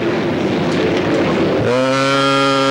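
A race car engine at a 1993 dirt track speedway event, a broad roar that settles into a steady, loud tone with strong even harmonics partway through, no speech.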